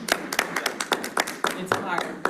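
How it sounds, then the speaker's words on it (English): A small group of housing commission meeting attendees clap in a brief, uneven burst of distinct hand claps at close range, with voices murmuring underneath. "frankly, I think you deserve, all of you, a round of applause."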